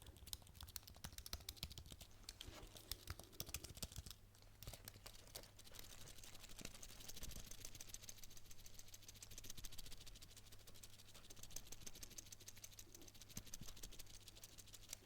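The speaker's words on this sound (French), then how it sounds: "quand je le secoue, par contre, j'entends un peu les touches du pavé numérique" Quiet, irregular plastic rattling and clicking of loose numeric keypad keys as the keyboard is shaken, close by.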